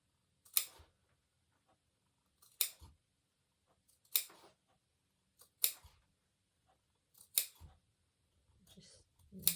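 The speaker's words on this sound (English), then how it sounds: "Do a few more snips where it's a bit more curved." Sharp scissor snips clipping into the curved seam allowance of a fabric pinafore dress, about six separate cuts evenly spaced in a quiet room.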